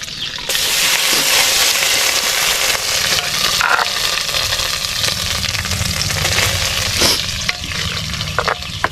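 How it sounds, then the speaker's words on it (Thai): A pounded snakehead and catfish paste with chili stir-fries in oil with a loud, close, steady sizzle after a brief quiet start, punctuated by scraping spatula strokes and a few clicks; no talking. "แล้วก็เอามาผัดกับน้ำมันก่อนครับ"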